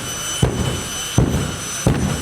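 Dragster exhaust at a modified car show letting out heavy pops and bangs, three loud low booms roughly evenly spaced over a constant loud engine roar, close by.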